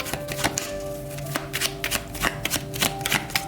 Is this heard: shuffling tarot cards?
yes